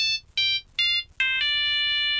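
A bright electronic phone ringtone plays a few short melodic tones, then holds a longer sustained note, loud and clear.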